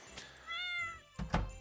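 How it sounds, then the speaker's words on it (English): A cat meows once in Stardew Valley, a clear, rising-and-falling call up close, followed by a couple of soft thuds. "Oh, cat."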